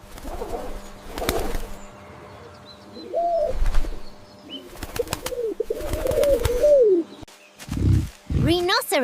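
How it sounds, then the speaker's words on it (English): A pigeon coos in several soft, throaty bursts separated by pauses, close by. Scattered clicks, rustles and a short wing flutter or chirp occur near the end. "Pigeon."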